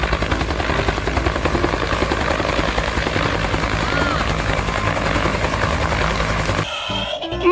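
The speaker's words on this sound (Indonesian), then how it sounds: "Ini helikopter." A toy helicopter's rotor whirs loudly and steadily for about six and a half seconds, then cuts off abruptly into a short, quieter stretch of rustling handling noise.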